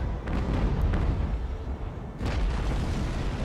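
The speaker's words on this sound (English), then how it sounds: "And we have a magazine detonation to finish her off" A ship's magazine detonates in Ultimate Admiral: Age of Sail, heard as a dense, rumbling, low booming roar that swells twice over a few seconds with no talk.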